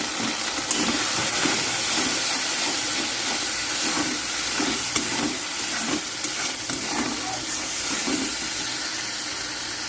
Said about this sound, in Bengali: তো মশলা আমার ভাজা হয়ে গেছে আর গা দিয়ে দেখো তেল ছেড়ে দিয়েছে